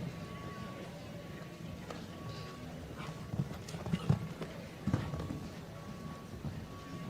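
Horse hooves thud on a show jumping course at a five-star team event, scattered irregular beats over a low crowd ambience and faint background tones. Commentary may be present faintly.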